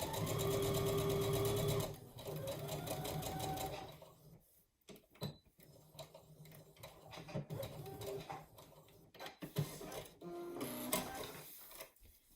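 A sewing machine stitches fabric for a protective face mask, running in a steady continuous whir for about two seconds, then in shorter bursts with pauses and small clicks of the handwheel and fabric.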